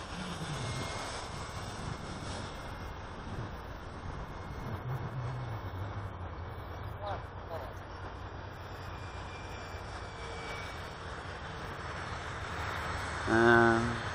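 A small propeller airplane engine drones steadily from a distance, its pitch rising and falling slightly as it winds up for a loop, with a brief louder swell near the end.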